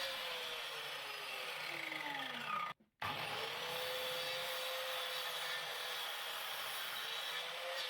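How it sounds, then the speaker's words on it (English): Miter saw cutting wood from an old bed base to rough lengths, a sustained whining buzz from the spinning blade that briefly stops and restarts, steady and fairly close with no voices. "Then it was over to the miter saw to cut them down to rough lengths."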